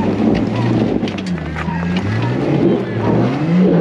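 An off-road vehicle's engine revs and labors steadily as it crawls uphill on a rocky desert trail at Phillips Loop in Calico, California, loud and close with gusts of wind buffeting the microphone throughout.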